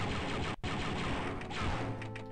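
Gunfire in the first-person shooter Star Wars: Dark Forces, a loud continuous rattle of blaster shots filling the whole stretch, broken by one brief gap, with no talk over it.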